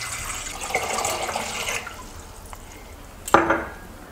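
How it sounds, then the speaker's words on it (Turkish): Water poured into a cooking pot until it is half full, a steady splashing rush for under two seconds, followed by quieter drips and a sharp clank of the pot near the end. "Daha sonra bir tencerenin içine yarıya gelecek şekilde su ekliyorum."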